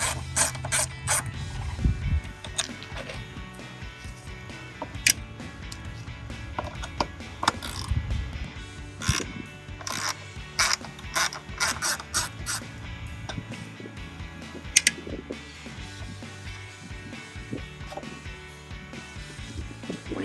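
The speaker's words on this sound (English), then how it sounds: "use my 1/4 drive ratchet and a T10 Torx bit" Quarter-inch drive ratchet with a T10 Torx bit clicking as it turns a screw on a RAM 2500 intake, in uneven bursts of sharp, close ratchet clicks with short pauses between, no talking.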